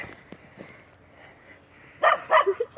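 A dog barks several times in quick succession near the end, loud and close, after a stretch of quiet outdoor background.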